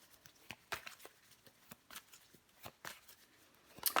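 Tarot cards being handled and laid over one another, a series of soft, quick papery slaps and flicks, close and faint with no voices.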